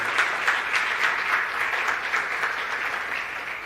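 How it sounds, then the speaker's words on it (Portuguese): A church congregation claps together during a Sunday morning service, a steady, dense round of applause that carries on evenly without voices. "se aplaude e glorifique o nome do Senhor"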